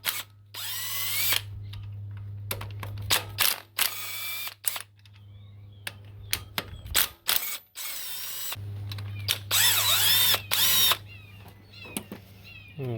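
A power tool loosens the engine mount bolts on a Nissan Versa in short, loud whirring bursts, starting and stopping repeatedly with brief pauses and clicks between runs.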